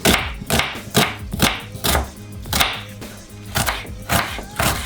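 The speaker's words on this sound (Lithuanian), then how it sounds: "Pirmiausiai supjaustome svogūną." A knife chops an onion on a board in a quick, uneven run of loud close thumps, about a dozen strokes with short pauses between bursts.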